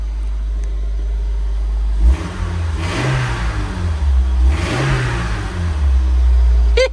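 A 1990 Toyota MR2 engine idles steadily and then revs twice, each rise swelling and falling away before it settles back to a close, loud idle.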